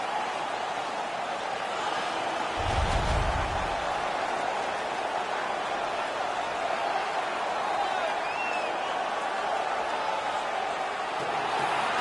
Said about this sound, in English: The home crowd is ecstatic. They're making all kinds of noise.